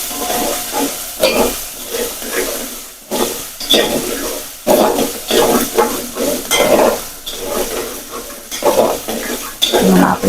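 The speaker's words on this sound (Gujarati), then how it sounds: "જ્યાં સુધી લસણની સુગંધ ના આવે ત્યાં સુધી આપણે તેને સાંતળતા રહીશું।" Garlic sautéing in a pan with a steady sizzle, broken by repeated stirring scrapes and spoon clatters at a close, even volume, with a short quiet gap partway through.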